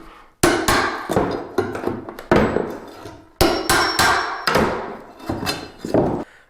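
A flat bar pries wooden carpet tack strips off during wall-to-wall carpet removal, producing irregular, loud, sharp strikes and cracking wood in quick clusters, close by, with no speech.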